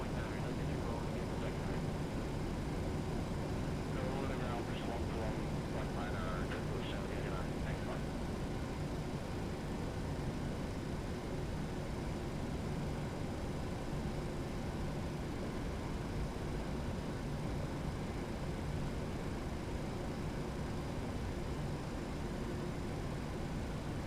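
A PMDG 737NGX airliner taxiing in the Prepar3D flight simulator gives a steady, broadband engine roar and hum that holds evenly throughout, with no talk over it.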